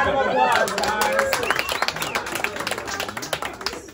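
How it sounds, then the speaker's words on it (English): A bar crowd at a magic show claps after a trick, dense close clapping that thins into scattered claps, with voices talking over it. "Give her a big round of applause, guys."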